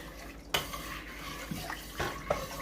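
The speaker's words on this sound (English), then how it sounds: "I'm going to stir this up." Vegetable soup is stirred in a pot, with a sharp clank of spoon on metal followed by a few softer scrapes and knocks over a wet, sloshing background.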